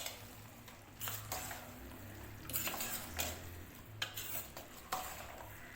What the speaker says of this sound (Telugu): సిమ్లో పెట్టుకొని ఒకసారి తిప్పుదాం అంతా